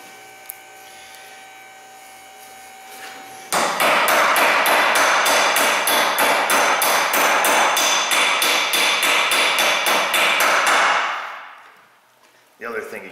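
A rapid series of loud metallic hammer strikes on a vehicle universal joint rings out close by for several seconds, then fades, over a steady background hum.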